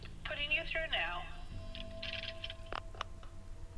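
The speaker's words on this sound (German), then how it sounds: "Da steht ein Telefon. Telefon! Wir rufen mal der Zentrale an." A telephone line rings in the L.A. Noire video game during a call to the operator: steady electronic ring tones after a spoken opening, with a few clicks and a voice partly over them.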